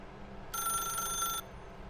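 Telephone in The Stanley Parable video game rings once, a bright electronic trill lasting about a second, starting and stopping abruptly over a quiet low background hum.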